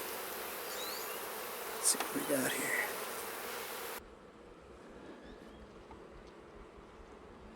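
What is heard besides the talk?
honeybees buzzing around hive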